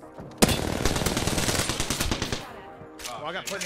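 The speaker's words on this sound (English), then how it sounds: "these are the guys that are shooting" Rapid automatic gunfire in Apex Legends at Skulltown, opening with a loud crack and continuing as a dense burst of shots for about two seconds before tapering off, followed by other game sounds.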